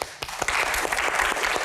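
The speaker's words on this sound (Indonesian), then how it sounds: "tepuk tangannya cepet banget gitu" An audience claps rapidly during a Q&A session with a magician, the applause starting sharply after a brief pause and continuing as a dense, even patter of many hands.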